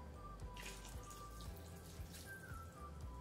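A little water is poured into a pot of caldo de calabacitas, a zucchini soup cooked Teotitlán del Valle style in Oaxaca; a soft, quiet trickle and splash over a low background hum.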